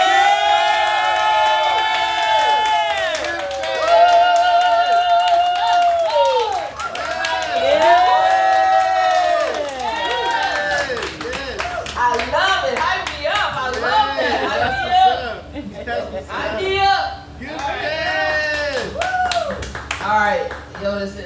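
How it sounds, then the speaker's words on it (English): Loud clapping, cheering and whoops rise from an audience at a poetry night welcoming the featured poet. They swell and fade in waves over about twenty seconds, mixed with crowd chatter and strong voices close by. "give a big, big round of applause for our feature tonight"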